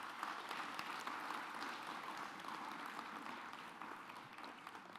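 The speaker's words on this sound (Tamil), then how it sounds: "இந்த பெருமக்களுக்கு நீங்கள் ஒரு பலத்த கரகோஷம் கொடுக்க வேண்டும்" Sustained applause from the audience at the London Kamban festival, a Tamil literary event with music, filling the whole span at an even, dense level without a break.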